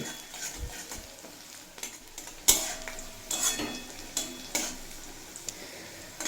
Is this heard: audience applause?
no